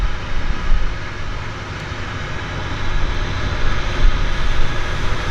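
A de Havilland Otter floatplane comes down onto a downtown harbour, its engine drone steady and fairly loud throughout, swelling slightly near the end with no voices over it.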